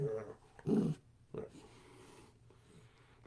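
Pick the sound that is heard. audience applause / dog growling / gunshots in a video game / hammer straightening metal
dog growling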